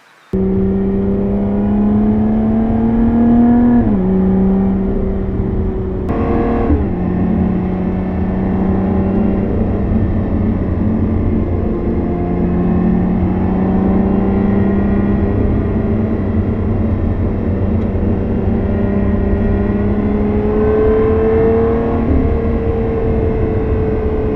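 A Lotus Evora 400 sports car engine drones steadily and loud, its pitch shifting up and down through gear changes with a brief jump around the sixth second, heard alone without talk.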